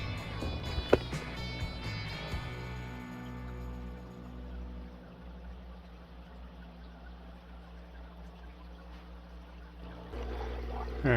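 Siphoned water from an outdoor guppy breeding pond poured out of a container, a steady splashing pour that gradually tapers into a trickle, fairly close and alone.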